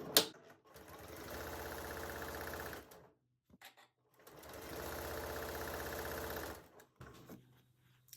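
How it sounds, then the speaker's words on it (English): A Janome M7 sewing machine stitches a quilt block in two sustained runs of rapid, even needle chatter, each about two and a half seconds long, separated by brief pauses and followed by quieter handling. "Today I'm using a different machine. I'm using the Janome M7."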